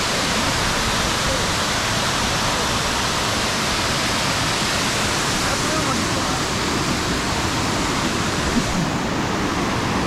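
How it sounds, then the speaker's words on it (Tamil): Karimutti waterfall near Munnar, a steady, loud roar of falling water rushing without a break, close by and filling the whole scene, with no voices heard over it. "இது கரிமுட்டி ஃபால்ஸ்"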